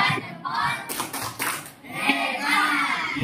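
Group thumb-clap chant in a classroom setting: bursts of rhythmic clapping mixed with children's voices chanting along, fairly loud and busy, with several clap clusters across the short stretch.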